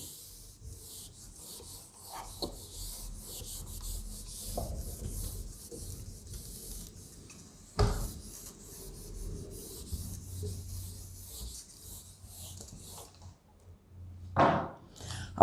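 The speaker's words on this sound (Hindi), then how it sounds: "रब कर दिया जाए या ऑफ कोर्स रब तो करना होगा" A classroom board is rubbed clean with a duster, giving soft, uneven scraping and rubbing strokes with a few sharper knocks, faint and close, with no talking.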